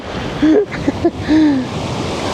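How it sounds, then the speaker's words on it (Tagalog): Loud, continuous roar of strong ocean surf washing in on a Fiji island shore, close and steady, with a few brief vocal sounds over it. "Ang lakas ng alon."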